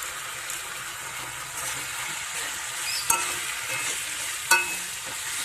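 Tangra fish with tomato and onion greens frying in oil gives a steady soft sizzle, broken by two sharp clanks of a spatula stirring against the pan.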